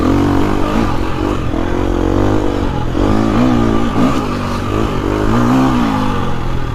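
A Yamaha motocross motorcycle out on a riding trail, its engine loud and close, revving up and down in repeated surging throttle sweeps with a rough, buzzing tone.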